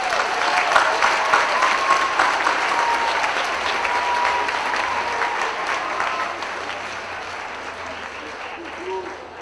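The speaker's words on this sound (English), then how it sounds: "please give a round of applause to this great group of planners" At a USC planning school commencement ceremony, the audience gives a warm round of applause for the graduating planners; many hands clap steadily, then the sound gradually softens toward the end.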